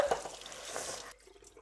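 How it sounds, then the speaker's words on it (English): Cold tap water runs briefly over freshly blanched vegetables in a kitchen, a short close splashing stream that cuts off after about a second. "I'm just gonna rinse it in cold water"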